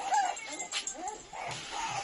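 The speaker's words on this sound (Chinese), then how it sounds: "咪咪，哎，乖哈，哎，吃的挺肥的这小猫啊" A plump kitten newly placed in a cage alongside puppies gives a few short, high meows, fairly close, with handling noises and a soft voice speaking nearby.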